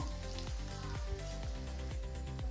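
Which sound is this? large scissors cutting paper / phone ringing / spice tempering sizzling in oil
spice tempering sizzling in oil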